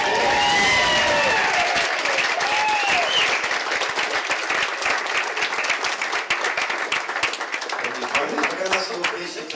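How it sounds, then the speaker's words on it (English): Wedding guests at a Sydney reception break into a big round of applause with cheering and whoops, loud and continuous at first and then thinning into scattered claps, with voices calling out beneath. "let's give them a huge round of applause"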